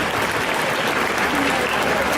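Dense, loud applause from a crowd at an indoor cosplay contest during a festival, continuous and even with no breaks.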